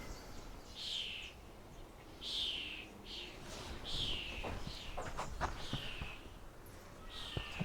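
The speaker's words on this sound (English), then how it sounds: "Noisy birds in that tree behind me." Birds call repeatedly from a tree on a golf course near Munich, a series of harsh descending squawks at regular intervals over faint outdoor rustling and footsteps.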